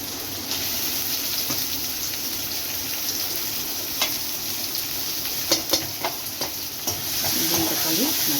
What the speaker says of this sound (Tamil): தக்காளி நல்லா வதக்கிடணும்